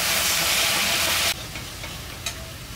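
Spice masala of chili powder for a singi fish curry sizzles loudly in a hot pan as a little water hits it, a strong hiss that cuts off abruptly and leaves faint crackling and a small clink.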